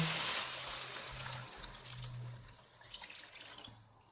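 Water poured into a pot of keema pulao with carrots, potatoes and peas, a close gushing splash that gradually settles into softer trickling and faint bubbling.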